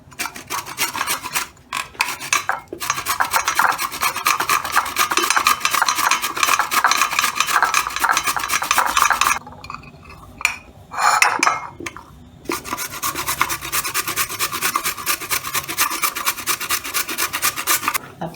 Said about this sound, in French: Ensuite, on râpe nos carottes.